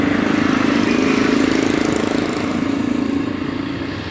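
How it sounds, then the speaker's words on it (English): Steady rumbling engine drone of motorbikes in street traffic in the Philippines, a continuous idling hum that fades slightly toward the end. "Let you see how these motorbikes work their way through traffic here."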